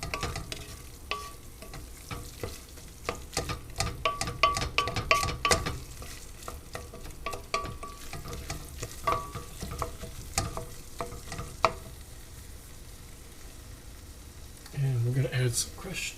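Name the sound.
onion sauce with tomato paste cooking in a pan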